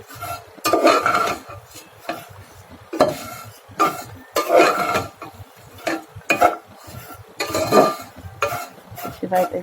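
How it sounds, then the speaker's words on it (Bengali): Vermicelli (semai) is stirred in a pan, the spoon scraping and clinking against the metal in repeated bursts over a faint sizzle. "তো রাত্রিবেলা করে আমি এখন সিমাই রান্না করছি"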